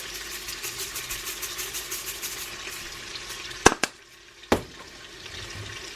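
Minced onion sizzles in a pan with a steady soft fry, broken by a few sharp clacks and knocks of tongs against the pan.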